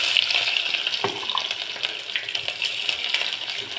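Garlic dropped into hot oil fries with a steady close crackle and sizzle that never lets up, with a few clinks of stirring mixed in.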